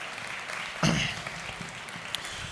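Scattered, fairly quiet applause from a church congregation during a sermon, a light even patter with one brief louder thump near the start.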